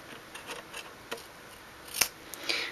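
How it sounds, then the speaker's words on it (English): Scissors snipping paper while a chocolate holder is made with an envelope punch board: a quick run of small, close, crisp snips that ends in a few louder cuts, with no talking. "And then I'm just going to cut this."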